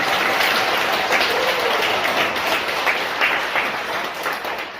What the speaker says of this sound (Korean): 여러분들 뜨거운 박수로 전해 주시기 바라겠습니다.